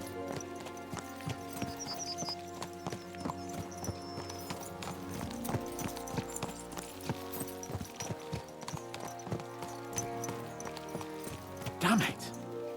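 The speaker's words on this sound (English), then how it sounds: "Let's really spur these horses on, eh?" Horses gallop in Kingdom Come: Deliverance II, hooves clip-clopping in a steady rapid rhythm over game music and ambience, with a brief neigh near the end and talk in the background.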